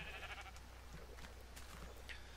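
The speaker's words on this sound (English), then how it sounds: "That's a black sheep, just chilling." A black sheep in Minecraft gives a few faint, wavering bleats over a low steady hum, quiet and somewhat distant.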